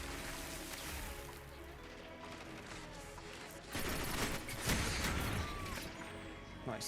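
Automatic rifle fire in a Destiny 2 player-versus-player match, bursts of rapid shots over game noise, growing louder and denser in the second half.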